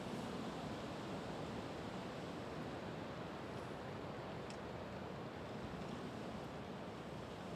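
Strong wind gusts roar across an airport at East Midlands during Storm Éowyn, a steady broadband rush buffeting the microphone throughout, with no voices.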